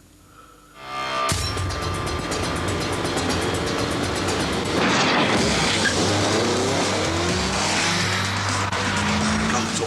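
A Tesla Roadster electric car with a one-speed gearbox sets off hard, its rising electric whine growing loud and steady from a near-silent start, with a tyre squeal and a brief voice under it.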